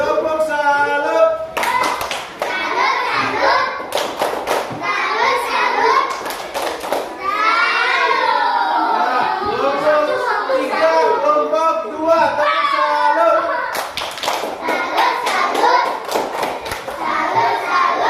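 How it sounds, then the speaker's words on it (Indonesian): Children in a classroom lesson perform a rhythmic "tepuk salut" clapping routine, loud bursts of sharp claps alternating with chanted children's voices throughout. "Tepuk salut."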